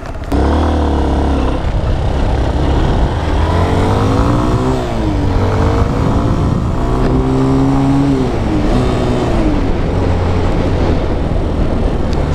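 A Honda supermoto-style dual-sport motorcycle being ridden, its engine droning steadily and loudly with rising and falling revs as it accelerates and shifts, plus constant wind and road noise close to the rider.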